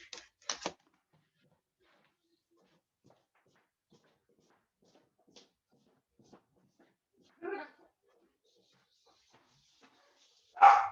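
A dog barks indoors or nearby, with a couple of short sharp barks at the start, another at mid-clip and a louder one at the end, separated by near silence.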